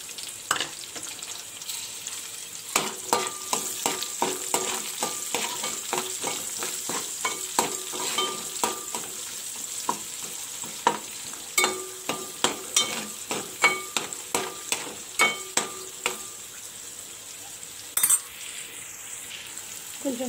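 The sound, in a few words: onions frying in a pan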